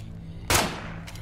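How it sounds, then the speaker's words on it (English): A single loud gunshot rings out in State of Decay 2, a sharp close blast with a short decaying tail, followed by a fainter second report about half a second later. "Why did he start shooting?"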